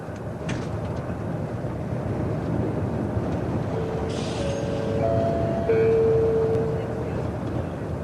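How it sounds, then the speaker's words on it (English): A Japanese high-speed train rumbles along steadily at about 130 miles an hour with a constant low roar, a faint high tone and brief whine rising partway through. "the train was going at its full 130 miles an hour"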